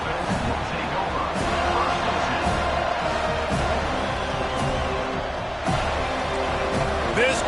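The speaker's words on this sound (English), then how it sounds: "This crowd bringing an ear-splitting welcome to their visitors." Stadium crowd at a college football game right after the opening kickoff, a loud continuous roar of cheering and shouting filling the whole clip, with a commentator's voice over it.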